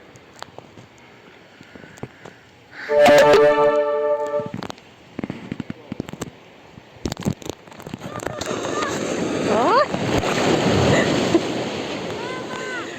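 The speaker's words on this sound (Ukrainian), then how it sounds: "Такие волны, капец." Sea waves crash on a shore, a loud surging wash rising and rolling on across the second half, with a sharp crackling burst near the start and wind buffeting the microphone.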